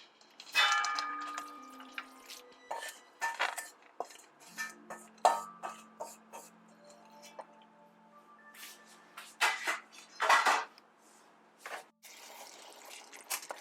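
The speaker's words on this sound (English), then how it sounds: "Now the meat is cooking, and I'm just breaking it down so the meat itself doesn't get lumpy" Ground beef browning in vegetable oil in a pot for Jamaican beef patties is broken up with a utensil, giving irregular close metallic scrapes and clinks against the pot with pauses between them, and no voices.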